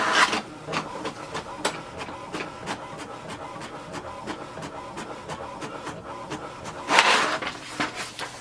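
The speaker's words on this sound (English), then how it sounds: "So it's taking the print inside." An HP Deskjet 3720 printer prints a page with close, steady mechanical clicking and whirring in a repeating rhythm. A louder burst of feed noise comes near the end, and no one speaks.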